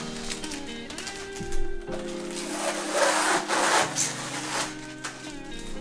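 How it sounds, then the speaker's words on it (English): Protective film is peeled and rubbed off the reflectors of an Aquatic Life T5 hybrid aquarium light fixture. It makes soft crackling, scraping rustles that come in uneven bursts at close range, with no talk. "I'm gonna go ahead and remove the reflector protective coating."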